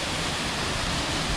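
A waterfall at Ice Lake Basin roars loud and steady, its broad rushing noise filling the whole moment with no break or variation.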